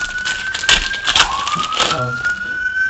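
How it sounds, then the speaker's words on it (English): An emergency siren wails in the background, a thin steady tone sliding down in pitch, while voices talk and faint clicks sound nearby. "If you guys hear that siren in the background,"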